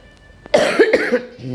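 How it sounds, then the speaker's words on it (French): Someone close by coughs harshly in a quick burst of two or three hacks, followed by a brief vocal sound. "je vais tousser de temps en temps"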